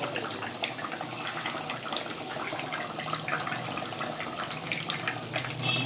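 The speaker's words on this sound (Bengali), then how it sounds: "মাছগুলো এবার ঝোল ফুটে গেছে টকবক করে, বা মাছগুলো এক এক করে ঢেলে দিচ্ছি।" Fish curry broth bubbling in a pot as fish pieces are added, a continuous close wet bubbling and gurgling with faint splashes, no speech.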